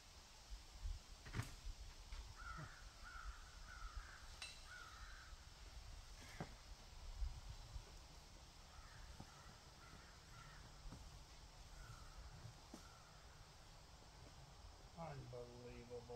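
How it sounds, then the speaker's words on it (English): Crows cawing outdoors at a beach campground, a few short calls scattered through the stretch over steady background ambience, moderately distant and fairly faint. "The hawk or the crows laughing at me."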